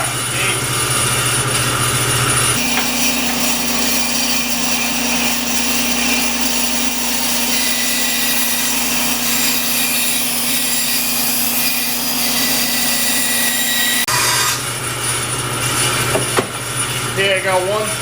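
A power saw cuts excess stock off a workpiece for cylinder core sticks, a loud sustained buzzing whine that drops in pitch under load in the middle and returns at the end, with no talking.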